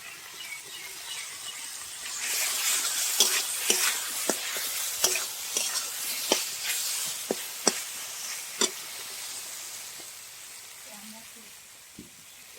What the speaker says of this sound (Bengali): ভালো করে কষিয়ে নিব মশলাটা, টমেটো মশলা সব ভালো করে কষিয়ে নিব।